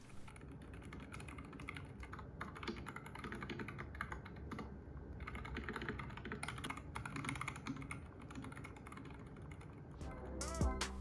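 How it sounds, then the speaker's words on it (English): Steady, continuous typing on an iPad Pro Magic Keyboard, with soft, close key clicks in an even rhythm, fairly quiet and without talking. "I prefer to use the iPad Magic Keyboard, as I really like the typing feel here"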